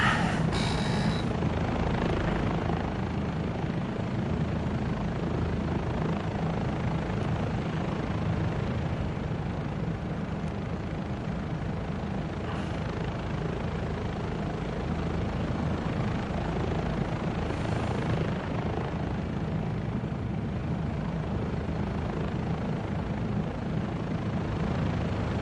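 A Bell 407 helicopter in the video game Microsoft Flight Simulator 2024 gives off a steady, loud, close rotor and turbine drone that continues without a break throughout.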